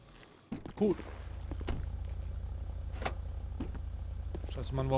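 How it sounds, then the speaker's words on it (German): A car engine running in the video game GTA 5, a steady low droning rumble that holds throughout after a few clunks and knocks at the start, with intermittent clicks over it and no speech. "warum ist denn der Motor jetzt nochmal angegangen?"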